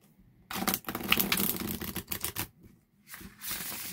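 Linen-finish Marigold Tarot cards of about 310 GSM are shuffled by hand, giving crisp riffling bursts and dry slapping clicks in several close, quiet rounds separated by short pauses.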